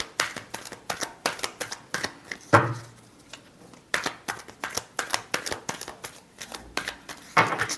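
Tarot cards are shuffled in quick bursts of crisp riffling and flicking, with a short pause and a soft thump midway, close and moderately loud with no talking.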